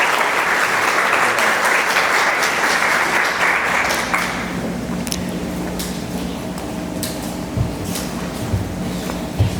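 A crowd applauds an animation team at an event. Heavy, sustained clapping fills the first four seconds and then thins into scattered claps, murmurs and shuffling.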